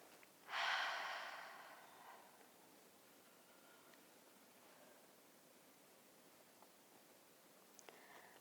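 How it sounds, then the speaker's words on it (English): A single deep breath is let out audibly during a guided-imagery play therapy exercise: one close, breathy exhale lasting about a second and a half, then near silence with faint rustles. "Now take some deep breaths"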